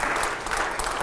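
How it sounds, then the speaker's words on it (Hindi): Studio audience at a Hindi TV political debate show breaks into loud, sustained applause, a dense steady wash of clapping with no pauses across the short stretch. "चलिए अगले सवाल से पहले जोरदार तालियां हो जाएं।"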